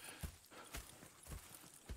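Horses' hooves clip-clop in Red Dead Redemption 2, as a few soft, separate thuds land in an uneven walking rhythm, quiet and close with no other sound over them.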